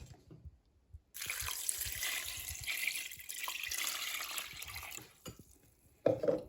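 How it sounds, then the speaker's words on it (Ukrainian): Water pours steadily out of a container for several seconds while preparing pickled honey mushrooms, a close rushing splash that then stops, followed by a few faint clinks and drips. "Зараз вильємо воду."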